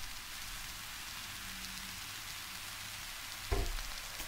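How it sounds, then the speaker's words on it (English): Rain sound preset on an Arturia ARP 2600-V synthesizer, a steady hiss of dense synthetic patter with a low thump and crackle near the end, played alone. "Sound of rain."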